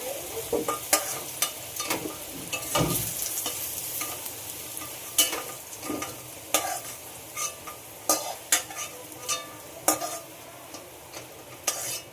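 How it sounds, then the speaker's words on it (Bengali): Steady frying sizzle as vegetables are stirred in oil with a spatula repeatedly scraping in a pan, sharp metallic clicks recurring every second or two. "এবার সবজিগুলোকে তেল থেকে তুলে নেব"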